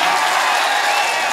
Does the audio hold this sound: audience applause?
yes